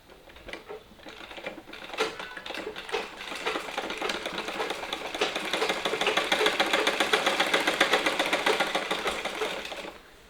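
A sewing machine stitching along the folded edge of an inskirt, a rapid mechanical chatter that starts in short bursts and builds into a steady run before stopping, no talking.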